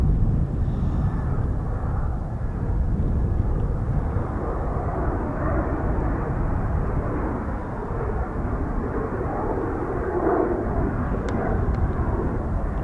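An F-35B stealth jet performing touch-and-goes gives a continuous, loud, broadband jet roar from a distance, a steady rumbling wash that holds throughout without a clear peak.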